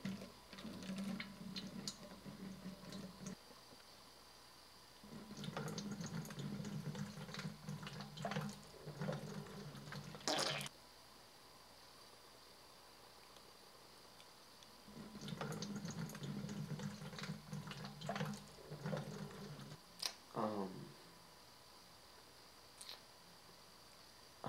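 Water runs into a jug being refilled, coming in three separate pouring bursts of a few seconds each with quiet pauses between, faint and without voices.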